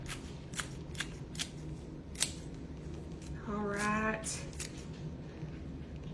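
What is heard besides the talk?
scissors snipping green onion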